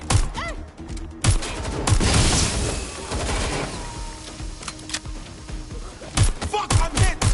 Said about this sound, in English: Shots fired! I need backup!